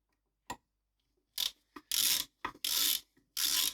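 A ratchet loosens a motorcycle fork cap bolt: a single click, then several bursts of rapid ratcheting of uneven length, close and sharp, with quiet gaps between and no speech.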